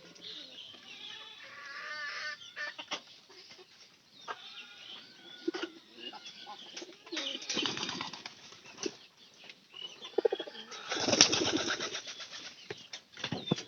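Pigeons near water, wings flapping in short bursts with soft cooing and light bird calls between, close by, louder flutters near the middle and end.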